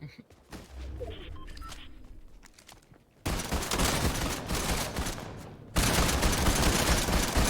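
Rapid bursts of gunfire from a pistol in the Fortnite video game, dense crackling volleys that grow louder in two sudden steps, following quieter scattered game sounds.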